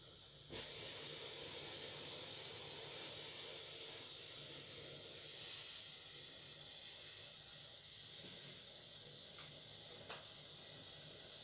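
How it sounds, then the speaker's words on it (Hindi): Half a kilo of water heating in a pot on the stove for rice kheer gives a steady, close hiss that begins abruptly and keeps going with little change, broken by a faint clink near the end. "अब हम पानी को गर्म होने देंगे।"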